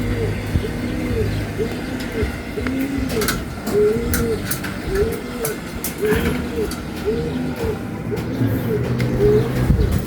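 Pigeons coo repeatedly in close, rhythmic rising-falling calls at a pigeon loft where racing pigeons are returning, over a constant background hum with occasional sharp clicks and knocks.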